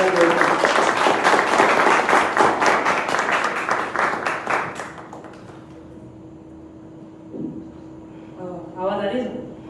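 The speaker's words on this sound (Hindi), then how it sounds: "एमपी गढ़वाल से देवास तालियां बजा रहे हैं।" An audience at an open-mic poetry evening claps loudly for about five seconds, then the applause fades away and a single speaker begins talking over a faint steady hum.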